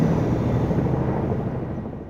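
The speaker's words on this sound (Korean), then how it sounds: "기다린 듯 수송헬기는 하늘로 올라갔다" A transport helicopter lifts off into the sky with a loud, steady, broadband rumbling roar that stays close and constant throughout, slowly easing slightly toward the end, with no voices.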